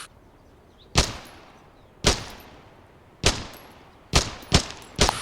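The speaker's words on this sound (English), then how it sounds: "Equip the pistol now. Fire off a few shots at the targets." Pistol shots fired at targets in the Dagger Directive video game: six sharp, loud single reports, evenly spaced at first and then quicker, each with a short ringing tail.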